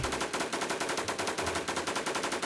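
Automatic gunfire rattles out in rapid, evenly spaced bursts in the video game WarZ, loud and continuous from start to finish with no voices.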